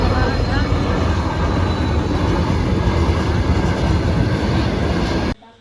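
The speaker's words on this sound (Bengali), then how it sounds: "দাদাই বললো যে ট্রেন এতেছে" A train passes a railway crossing gate with a loud, steady roar and rumble that fills the scene, then cuts off abruptly.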